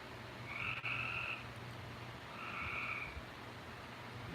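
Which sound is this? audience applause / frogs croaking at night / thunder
frogs croaking at night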